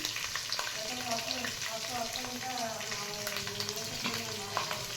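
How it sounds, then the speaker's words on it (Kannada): Tempering spices for ginger-lemon chitranna sizzle and crackle steadily in hot oil, a continuous close frying hiss with faint stirring, while a person talks over it. "ಈಗ ಎಣ್ಣೆನಲ್ಲೇ ಹಾಕ್ತಾಯಿದ್ದೀನಿ ನೋಡಿ"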